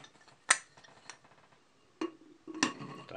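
A metal lid clanks onto an Afghan kazan pot, followed by a couple of clinks and a clunk as the pot is set on the stove, the sharp taps spaced apart in a quiet kitchen.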